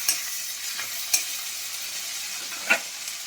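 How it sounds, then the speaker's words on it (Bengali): Cumin seeds sizzle in hot oil in a pot with a soft, continuous hiss, broken by a few sharp spatter pops and light stirring scrapes. "তারপরে জিরেটা আমি দিয়ে দেবো। এটা দিয়ে আমি একটু ভালো করে নেড়ে নিই।"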